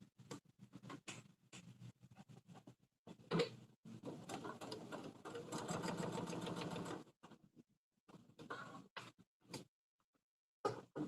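A sewing machine stitches a quilted project bag with a rapid, even mechanical patter. It runs in several bursts of varying length with pauses between them, quiet and close, and no voices are heard.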